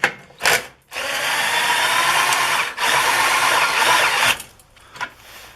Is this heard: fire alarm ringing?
no